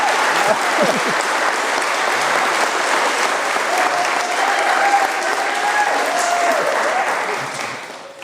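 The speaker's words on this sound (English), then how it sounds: "You're getting a standing ovation in the balcony." A wedding crowd, including guests up in a balcony, gives a standing ovation: loud, sustained applause with scattered cheers and whoops that carries steadily before tapering off at the end.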